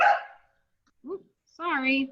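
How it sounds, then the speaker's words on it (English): An Australian cattle dog gives a couple of barks indoors, short and close, with someone briefly speaking between them. "that's my dog"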